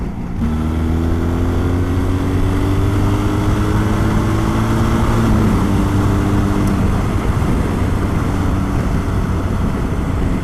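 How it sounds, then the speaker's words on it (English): Steady wind roar and engine drone heard while riding a BMW R 1300 GS motorcycle fitted with a low seat, with a continuous low hum and rising tonal whine throughout, loud and unbroken. "It seems like maybe it's a lot of wind, but it's not unsettling the bike"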